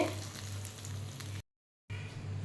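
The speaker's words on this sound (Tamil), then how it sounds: "கடுகு, கருவேப்பிலை தாளித்து போட்டுற வேண்டியதான்" Mustard seeds and curry leaves are tempered in oil, giving a soft, steady sizzle with a low hum underneath and a short silent break midway.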